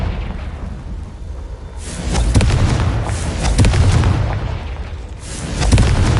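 A Confringo fire spell explodes in a Harry Potter video game on PS5 Pro, heavy booming blasts swelling and rolling in waves, loud and near, with no talk over them.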